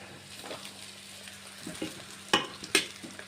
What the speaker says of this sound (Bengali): ডিম বটবটি গাজর কিশমিশ কাজু দিয়ে সব একসাথে ভালো করে ভেজে নিচ্ছি